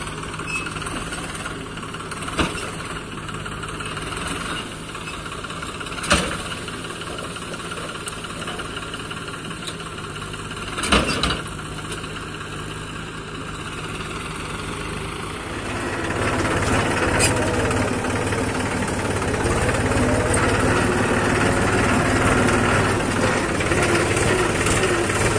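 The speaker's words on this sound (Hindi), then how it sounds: "यह है स्वराज 834 एफी, दो ही ट्रैक्टर लगे हुए हैं।" A Swraj 834 FE tractor loading soil, its diesel engine running steadily with a low knocking hum and a few sharp clanks, then growing louder and rougher as it works harder toward the end.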